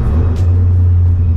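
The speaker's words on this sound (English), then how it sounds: "I love the way the turbo sounds." Turbocharged engine of a 2014 Ford Focus ST, heard as a loud, steady low drone with a strong constant hum and broadband rumble, no speech over it.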